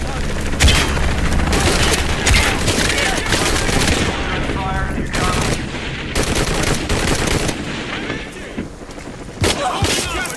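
Repeated bursts of gunfire and fusillades crackle loudly in the video game Shadow of the Tomb Raider, with sharp shots, booms and thuds over several seconds and voices talking beneath the shooting.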